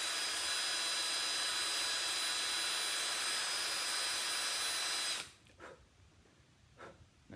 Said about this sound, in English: get my drill straight over it.